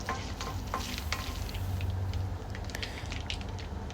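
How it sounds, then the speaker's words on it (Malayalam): Coconut pieces and mustard seeds fry in hot coconut oil for chicken thoran, giving a close, steady sizzle peppered with small pops and stirring scrapes throughout. "പിന്നെ തേങ്ങാക്കൊത്ത് ഒരു 2 പിടി ഇടുക. എന്നിട്ട് അത് ഒരു ബ്രൗൺ ആവുന്ന വരെ റോസ്റ്റ് ചെയ്തെടുക്കുക"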